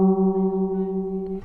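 Single sustained guitar string ringing while being tuned, its tone wavering with a slow beating pulse as the pitch nears the target, clear and close, fading out after about a second and a half.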